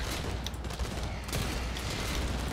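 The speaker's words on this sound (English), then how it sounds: "Those guys are just shooting at walls." Gunfire in the first-person shooter Blacklight Retribution, a dense wash of distant shots and mechanical clatter over steady game noise, with a couple of sharper reports standing out.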